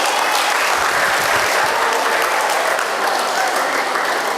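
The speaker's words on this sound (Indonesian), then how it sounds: "Tepuk tangan dulu dong." Loud, sustained applause from a large audience at a religious lecture on a campus, a thick unbroken wash of clapping from start to finish.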